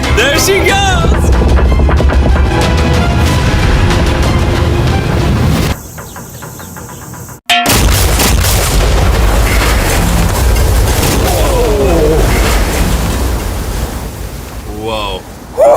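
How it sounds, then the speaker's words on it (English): A massive homemade C-bomb loaded on an RC boat blows up a yacht, a loud sustained roar and rumble of blast debris that cuts briefly to near silence, then continues with crashing noise and excited voices. "combined them into one mega C-bomb, and it's currently on an RC boat heading directly to blow up your yacht"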